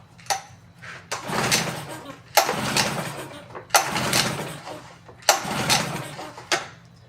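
A small outboard boat engine is pull-started in neutral, with four loud repeated rope pulls that each raise a brief chugging turnover, spaced about 1.5 seconds apart and heard close.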